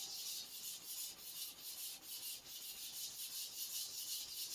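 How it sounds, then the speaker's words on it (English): A sponge and steel wool scrub rust off a sujihiki kitchen knife with Barkeeper's Friend, a quiet rhythmic back-and-forth rasping of repeated short strokes, close and alone. "I'll use some Barkeeper's Friend and a sponge and or some steel wool to get most of the rust off"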